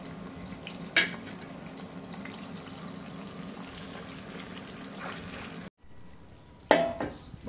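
Chicken pieces sear in a pan, a steady close hiss broken by a couple of sharp utensil clinks against the cookware.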